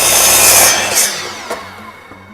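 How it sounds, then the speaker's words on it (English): A saw cuts the end off a piece of clear wood while a sawhorse is being built: a loud, close rasping stroke that fades out, followed by a few faint knocks. "Chop that end bit off."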